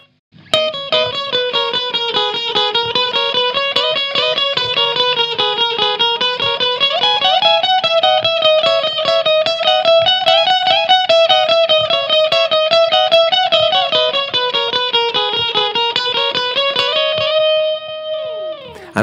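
A Copycat tape echo unit on its longest delay setting repeats sustained musical notes into long, smeared trails of echoes, loud and continuous, then ends with a fading tail.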